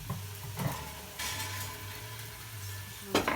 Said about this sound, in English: I'm sauteing the mushrooms with the streaky bacon, the smoked streaky bacon.